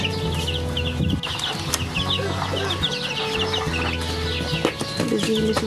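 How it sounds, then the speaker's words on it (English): Several chickens in a big cage in a garage cluck and chatter continuously, close by, with overlapping busy calls and occasional squawks over a steady background hum. "Busy little chickens."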